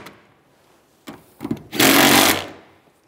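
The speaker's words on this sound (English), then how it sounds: "Now tighten the rear." A tool tightens the rear center console bolts on a 2007-2013 Chevy Silverado: a few short clicks and a brief whir, then a loud, sustained buzzing ratchet burst of about a second that tapers off.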